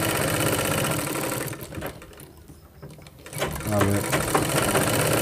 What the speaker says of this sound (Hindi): यहाँ बराबर रख कर के आपको यहाँ से एक सिलाई मारना है